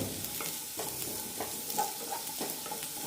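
Kohlrabi pieces being lightly sautéed for sambar give a soft, fairly quiet sizzle with regular spatula scrapes against the pan, and nobody speaks.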